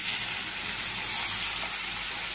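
Chopped ash gourd drops into hot oil with cumin seeds, setting off a loud, steady hissing sizzle that runs unbroken from start to finish with no voices.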